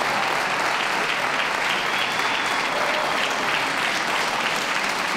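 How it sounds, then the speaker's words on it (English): Steady, dense applause from an audience at a championship dog show during the toy group judging, sustained and even throughout with no pauses. "Round of applause for them all, please."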